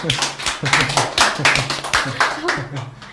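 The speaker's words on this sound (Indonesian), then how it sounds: "Boleh nggak sih tepuk tangan?" Hands clapping in rapid rhythmic bursts among children in a classroom setting, loud and close, with a voice speaking over the claps.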